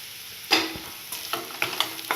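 Boiled tapioca pieces frying in oil in a pan, a soft background sizzle punctuated by several sharp scraping stirs of a spatula.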